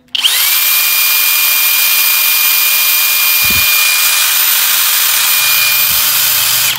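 Cordless drill driver, a Milwaukee M18 or FLEX 24V, spins up sharply and runs at a constant high-pitched whine for several seconds before stopping, loud and close with no talking.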